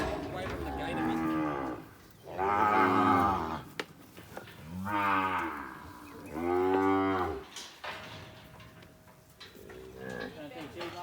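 Mother cows crowded near a yard gate during a muster bellow in a series of loud, long moos, close by and separated by short pauses.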